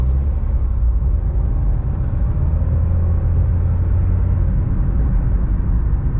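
A cheap Citroen Saxo, with its timing belt newly replaced and giving off smoke, drives on a short test run: a constant low engine rumble and road drone, loud and even throughout, with no talking.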